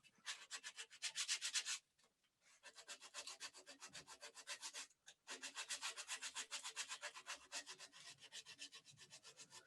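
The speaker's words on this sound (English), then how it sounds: "just make yourself a little sanding block and you can get rid of that texture and further refine the shape" A small hand-held sanding block rubs back and forth over a turned wooden flute, making steady, close raspy strokes in a quick regular rhythm, broken by two short pauses.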